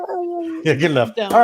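Dogs left alone in a house give a drawn-out, wavering howl, then whimpering yips that come close and loud while people talk over them.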